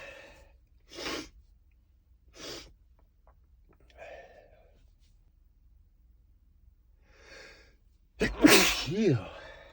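A person inside a car lets out several breathy puffing exhales spaced a second or two apart, then one loud, sudden, close sneeze followed by a ragged breath.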